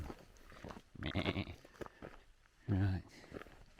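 Sheep bleat near a creek bed during an outdoor trek, two loud close bleats, the second longer, with people talking and footsteps around them.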